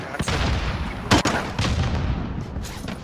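Dense gunfire in the video game Modern Warfare rattles continuously with a sharp louder shot near the middle, close and loud throughout the short stretch.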